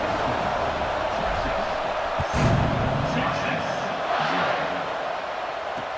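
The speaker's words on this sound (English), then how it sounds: "this crowd is buzzing after that last score" A football stadium crowd buzzes and murmurs in a steady, loud wash after a score, swelling briefly midway, with a voice talking over it.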